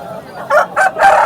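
A rooster at a poultry market crows loudly and close by, a short broken call in three rising bursts.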